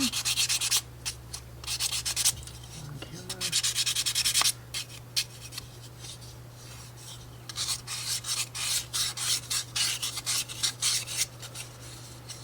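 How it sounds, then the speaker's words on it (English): Light sanding strokes rasp against wood in uneven bursts over a steady low hum, close and moderately loud. "So we'll do a little bit of light sanding on this one."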